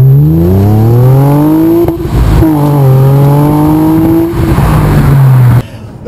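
A 2014 Honda Accord V6 coupe with a manual gearbox revs hard under acceleration, loud and close. The engine note climbs steadily, dips briefly at a gear change, then climbs again before cutting off.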